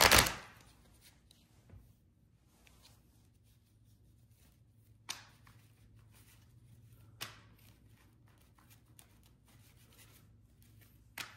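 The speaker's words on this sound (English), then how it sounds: "we will shuffle the tarot here just for the good of the cause" Tarot cards riffled and shuffled by hand at close range, with a few soft bursts and taps of card noise over a quiet background.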